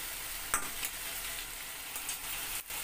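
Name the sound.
tangra fish sautéing in pan with tomato and green chili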